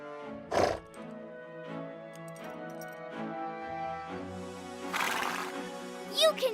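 A horse named Beauty, one of the dancing horses, gives a loud whinny near the start, then quieter music-like harmonic tones and a rushing burst follow, with a second shorter whinny-like cry at the end.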